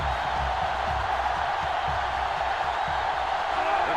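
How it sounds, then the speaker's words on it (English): Steady stadium crowd roar in the PS2 video game NCAA Football 06, a broad continuous wash of cheering that holds at constant loudness throughout. "The crowd is really letting them hear it."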